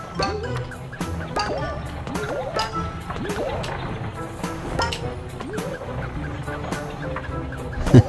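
Birds in the video game A Hat in Time give repeated chirping, clucking calls at a steady pace, layered over busy game music and effects.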